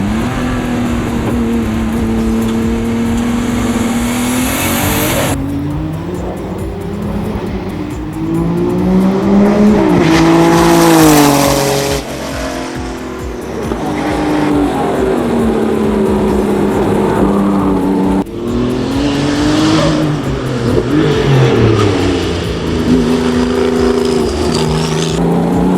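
A racing car engine revs loud and close, its pitch climbing and falling through repeated bursts of acceleration, with a brief tire squeal, as it pulls away and roars on for nearly half a minute.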